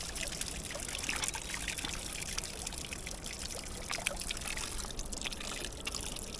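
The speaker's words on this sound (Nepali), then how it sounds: "आयो है पानी आयो है।" Cold mountain spring water trickles in Nepal's Tsum Valley, in Gorkha district, a steady, close splashing dribble that runs without a break.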